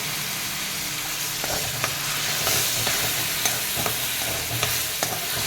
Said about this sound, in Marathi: छान मिक्स करून घेऊयात